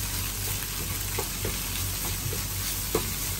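Ginger sizzles steadily in hot oil in a pan for pancit canton, with soft stirring scrapes and clicks of the utensil on the pan breaking through the constant frying hiss, and no one speaking.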